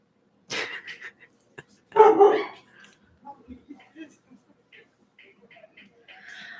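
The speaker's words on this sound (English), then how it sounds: "My dogs are going crazy." Dogs bark in a few sharp bursts, the loudest volley fairly close, followed by scattered fainter yips and barks; a voice speaks briefly in between.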